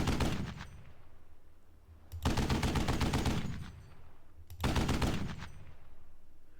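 Machine gun fire in the wargame Squad Battles comes as three long, loud bursts of rapid shots, each tailing off before the next begins, with no talk.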